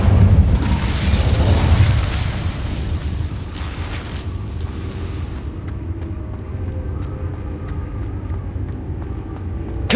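Incendio fire spell cast in a video game, a loud booming burst that roars and crackles for about two seconds before fading into a low rumbling tail with faint ticking.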